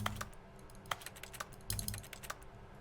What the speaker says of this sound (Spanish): Porque suena el teclado cada vez que clico.